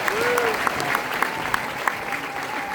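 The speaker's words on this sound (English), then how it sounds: "So how about one more round of applause for that display itself." Audience at a military event for soldiers applauding steadily, a dense wash of clapping with a whistle-like tone and a few sharper claps standing out, no talking over it.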